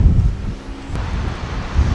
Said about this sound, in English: little windy